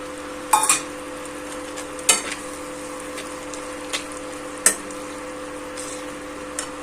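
Tomatoes and green chillies stirred into spices frying in a pan, a low sizzle beneath several distinct scraping clinks of a spoon against the pan, spaced a second or two apart.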